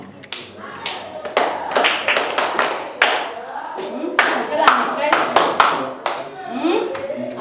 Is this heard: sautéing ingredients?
no